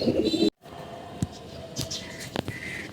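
Pigeons cooing close by, low throaty calls repeating irregularly, with a brief dropout and a few light chirps and rustles.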